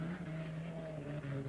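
An unlimited hydroplane racing boat's engine roars steadily and loudly for the whole moment, a sustained high-pitched drone with no pauses and no voices.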